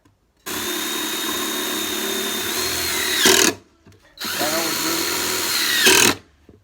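A power drill driving small screws into a wooden cigar box instrument, two sustained whirring bursts of about three seconds each, ending in a strained pitch drop as each screw seats, up close with a brief pause between them.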